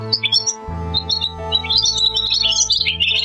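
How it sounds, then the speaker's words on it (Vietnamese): A swallow's bright chirps and twittering calls, loud and up close, ripple over a steady musical backing throughout. "Chim én."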